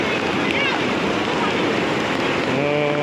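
Floodwater of the Khahare stream in Boudha surges past as a steady, loud, broadband rush, with gusts of wind noise on the microphone throughout.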